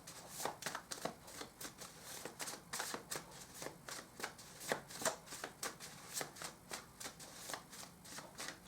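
Tarot cards shuffled in steady, repeated riffling bursts, each a crisp papery flutter recurring roughly every half second, close and fairly quiet with no voices.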